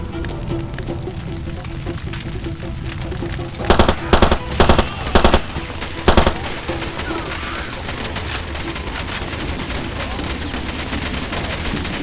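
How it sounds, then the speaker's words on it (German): Ammunition cooking off in a fire in Far Cry 2: a cluster of sharp, loud rapid bangs in quick irregular bursts over crackling fire and ambient noise, then a final pop before the steady background returns. "da brennt die Munition ganz runter"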